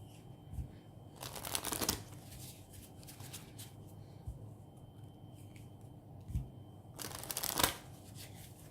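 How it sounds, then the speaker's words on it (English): Tarot cards being shuffled in two bursts of rapid riffling, the second near the end, with quiet pauses and a few soft taps between. "I just felt guided to do some more shuffling."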